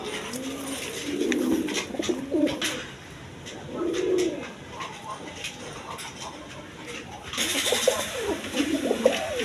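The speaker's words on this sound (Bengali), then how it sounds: "এখানে একটা হাউস ভিজনের নর কবুতর আছে" House pigeons coo repeatedly in low, rolling bursts, close by, with clicks and a brief rustle in the background.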